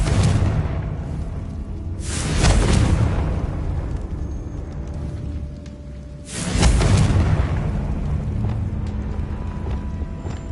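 Fiery spell blasts cast in the video game Hogwarts Legacy: two loud booming bursts a few seconds apart, each with a sharp crackling onset and a long rumbling decay over a steady ambient bed.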